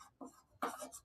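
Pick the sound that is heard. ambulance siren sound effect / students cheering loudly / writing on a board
writing on a board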